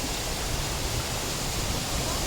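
Fresh clear water of the Pak Mong river rushing steadily, a loud, dense, unbroken roar close by with no other sounds.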